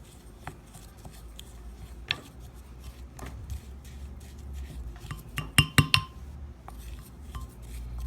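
Peppers being tossed with a little oil and salt in a bowl, giving soft scraping and rustling with a few sharper clinks near the middle, close and fairly quiet with no talking.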